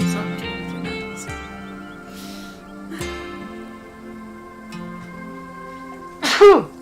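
A single sharp sneeze bursts out near the end over quiet background music, following faint scattered talk.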